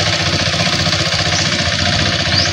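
A kuliglig hand tractor engine idles in a farm field, a steady loud rattling chug with constant vibration, close and alone with no voices.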